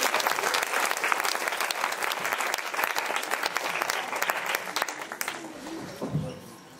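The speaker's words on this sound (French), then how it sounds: "Donc on peut l'applaudir bien fort" A cabaret audience claps loudly to welcome the singer Florian, a thick, sustained burst of applause that thins out after about five seconds, and a faint voice and a few stray claps follow.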